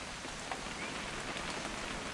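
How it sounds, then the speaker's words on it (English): Rain falling steadily in What Remains of Edith Finch, a dense, even hiss of drops on surfaces, continuous and close with no other sounds. "It's gonna rain the whole weekend,"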